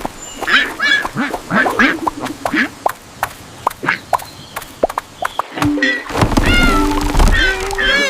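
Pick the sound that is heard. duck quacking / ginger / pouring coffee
duck quacking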